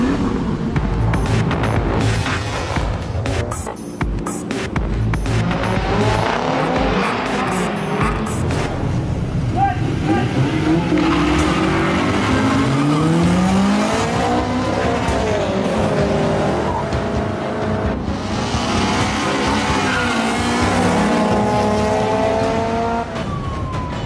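Street race cars accelerating hard, loud close engine roar rising and falling with long screeching tire squeals and skids building over the run, with a brief burst of talk early on.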